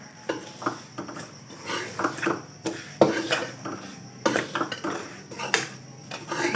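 Sesame seeds fry in leftover oil in a pan while a metal utensil scrapes and clinks against it in irregular, close clatters of varying loudness, with no voices.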